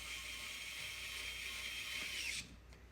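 A compact 50-in-1 electric screwdriver runs steadily with a bright whirring motor tone, then cuts off sharply near the end, leaving a faint hum.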